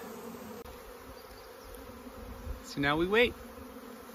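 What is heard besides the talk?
honeybee swarm buzzing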